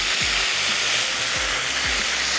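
Garlic and ginger paste sizzling in hot oil for a tempering for Kerala prawn curry, a loud, steady frying hiss that fills the whole moment, with a few low clanks of a spoon stirring underneath.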